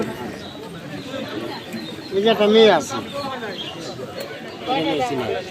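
Pigeons coo close by amid a busy bird and poultry market, with people talking, chattering and haggling around them.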